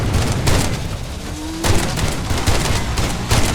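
Shotguns fire repeatedly in a first-person shooter video game, loud booming blasts in a dense, overlapping barrage that stays heavy throughout, with sharp peaks as individual shots stand out.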